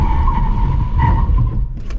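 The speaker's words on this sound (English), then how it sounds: "full throttle, and then hard braking" A car braking hard from full throttle, tires skidding with a sustained squeal over a steady low engine and road rumble, loud and close, easing slightly near the end.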